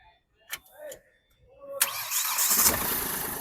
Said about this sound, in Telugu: సింగిల్ సెల్ఫ్ లో స్టార్ట్ అవుతుంది సార్ బండి అయితే